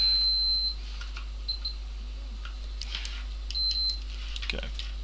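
A multimeter gives short high continuity beeps while probing pins on an Acer 5552G laptop board, with a few faint clicks and a steady low mains hum underneath.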